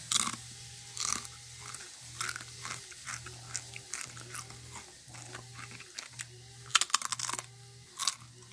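Crunchy bites and chewing on a powder-coated chip, a series of close, sharp crackles and munching sounds with short pauses between, over a faint steady background hum.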